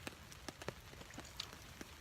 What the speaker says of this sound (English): It's raining hard enough.